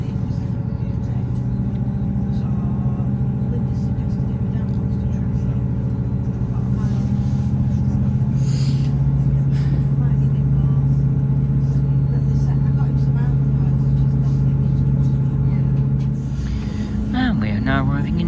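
A class 158 diesel train pulls away from Smithy Bridge station, a steady engine drone and deep rumble heard from inside, continuous and fairly loud, with a short rattle near the end.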